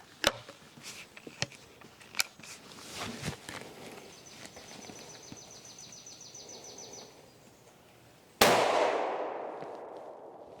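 A single loud, sharp gunshot from a Henry single shot rifle fired off the shoulder outdoors, with a brief reverberant tail that fades over about two seconds, preceded by quieter scattered clicks and handling sounds.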